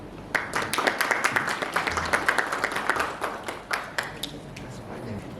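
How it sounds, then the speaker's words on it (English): A conference audience claps steadily, a dense patter of many hands with a few sharper individual claps, moderately loud and sustained throughout. "let us give a round of applause, and please, Dr. Dedi Kurniawan Halim"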